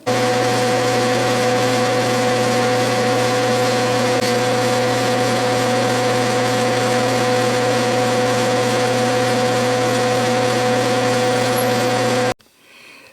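A number 38 tap drill bores into a workpiece on a lathe during repair of an Atlas mica undercutter, giving a loud, steady whirring hum with a constant machine tone that runs without a break for about twelve seconds, then cuts off.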